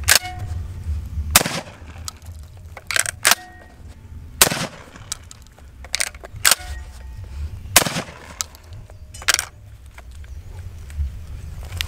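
A Beretta 1301 Tactical shotgun fires bismuth turkey loads: about eight loud, sharp, close blasts in an uneven rhythm, with handling clatter and quieter noise between shots.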